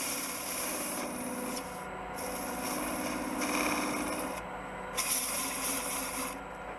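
240-grit sandpaper rubs steadily against a turned wooden travel coffee mug spinning on a lathe, a close, continuous abrasive hiss with a few brief pauses and no talking.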